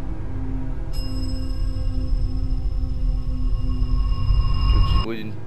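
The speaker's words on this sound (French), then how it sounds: "Ah non, c'est la sonnette." A synthetic electronic video game doorbell tone rings steadily for several seconds over background noise, then cuts off abruptly.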